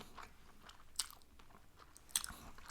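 Close, quiet chewing of sushi topped with fish eggs, with two crisp, sharp bites standing out over a soft background of mouth sounds.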